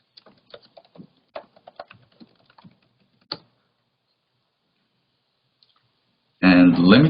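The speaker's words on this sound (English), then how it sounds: "I'm just typing out the contact information in the chat right now." Soft, scattered clicks of typing on a computer keyboard in short irregular bursts, fairly quiet, followed by silence and then a person talking.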